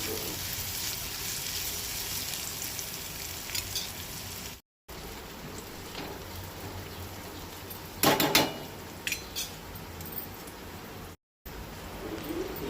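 One large chopped onion fries in a pan until light brown for a Goan tomato salad bhaji, a steady close sizzle with a few louder crackles and two brief dropouts.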